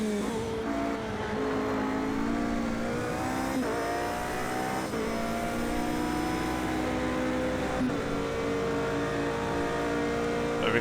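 Race car engines roar around Monza in Project CARS 2, a steady high-pitched drone of several cars with rising and falling revs and no voices over it.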